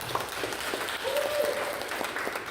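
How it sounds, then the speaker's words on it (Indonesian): Audience applause at a social teaching event, a soft, spread-out patter of clapping from a crowd, moderately faint and continuous through the short stretch, with no talking over it. "Tepuk tangan buat mereka dong."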